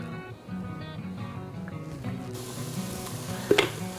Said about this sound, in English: We're going to brown the meat down a little bit.